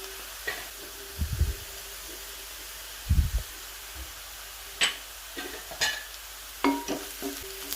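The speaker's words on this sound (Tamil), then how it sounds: "இப்போ நல்லா வறுபட்டுட்டு இப்போ நம்ம மிளகை சேர்த்துடலாம்." Garlic and onion frying in sesame oil as pepper goes in, heard as a soft continuous hiss broken by a few sharp clatters and stirring knocks.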